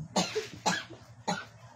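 Three short coughs in a row, close and fairly loud, with brief pauses between them.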